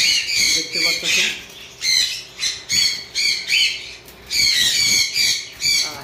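Conure parrots give loud, harsh squawks in rapid bursts, repeating about a dozen times close by with short gaps between calls.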